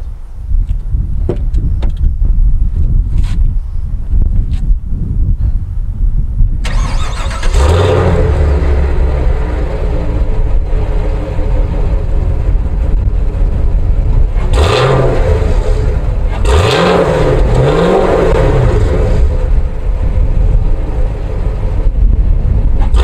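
A Chevrolet Camaro 2SS V8 cranks and catches after some quiet handling noises, then idles loudly close by and is blipped several times in strong, rising revs that fall back to idle.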